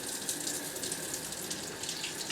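Two large apples rinsed under a running cold kitchen tap: a steady, close hiss of flowing water splashing into a sink, continuous throughout.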